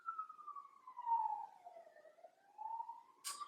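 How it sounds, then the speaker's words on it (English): Police sirens wail from cars outside, a faint wavering tone rising and falling steadily in the distance with no one talking over it. "Excuse the noise of the sirens outside with the cars."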